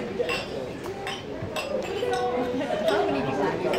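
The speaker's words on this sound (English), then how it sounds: "So please raise your glasses to Mr. David Blaine" Glasses clink during a best man's toast at a wedding, with several light chinks scattered over loud, continuous crowd chatter and cheering.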